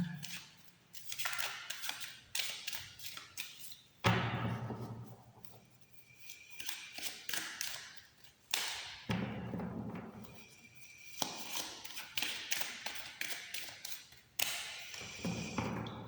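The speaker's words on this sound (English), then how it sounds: "Let me shuffle just a bit more." Tarot cards are shuffled in bursts of crisp riffling and flicking, close and fairly quiet, in several separate rounds with short pauses between them.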